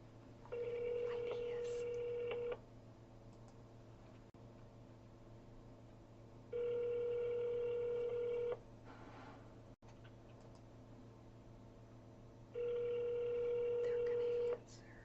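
Telephone ringback tone on a call before it goes to voicemail, three evenly spaced long rings with quiet gaps between them, heard faintly through a phone line.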